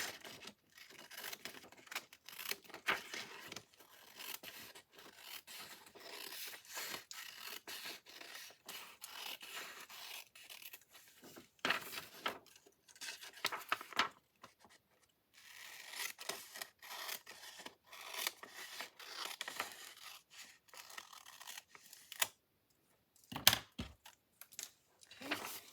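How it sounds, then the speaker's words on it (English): Scissors cutting the white edges off patterned craft paper for a Christmas folio, a run of quiet crisp snips and paper scrapes repeating in uneven bursts, close up with no talking. "And just cut the white edges off of this."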